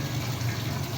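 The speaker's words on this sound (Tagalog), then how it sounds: "habang nililinis o nilalagyan natin ng tubig yung ating" Water gushes into a koi pond being refilled, a steady close hiss and rush of flowing water with a low hum underneath, no voices.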